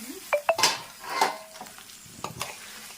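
Chicken masala powder being stirred into hot frying oil in a pan, a few quick scrapes and clinks of a spoon against metal over a soft sizzle, close and brief with no talking.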